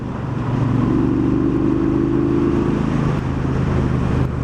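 A 2018 Triumph Bonneville Bobber motorcycle engine pulls under acceleration, a steady low rumble rising in pitch and volume, then easing off near the end.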